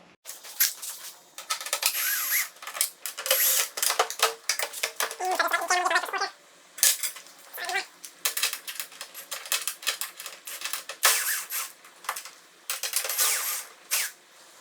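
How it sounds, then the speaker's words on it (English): Hand tools working the Phillips head screws on the tail light of a Kawasaki VN1700 motorcycle: close, scratchy bursts of a screwdriver turning and clicking, broken by brief pauses, with one longer rattling stretch partway through. "There's 4 Phillips head screws under here, so I'm going to take these 4 screws off"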